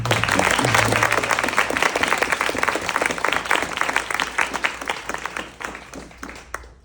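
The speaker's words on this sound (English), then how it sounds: "And one round of applause" A bookstore audience at Skylight Books gives an author's reading a dense, loud round of applause that carries on steadily before thinning toward the end, with no talk over it.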